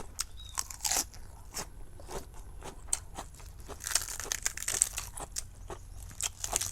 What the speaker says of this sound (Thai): ผักสลัดกรอบ